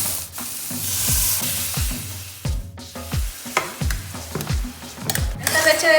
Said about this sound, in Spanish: le agregamos un poquito de la leche de coco